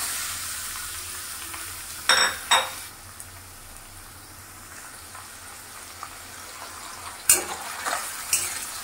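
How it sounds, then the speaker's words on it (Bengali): Shrimp fry lightly in mustard oil with turmeric and salt, giving a steady soft sizzle throughout, broken by a few sharp utensil clinks and scrapes against the pan near the start and end. "চিংড়ি মাছগুলোকে হালকা করে একটু ভেজে নেব।"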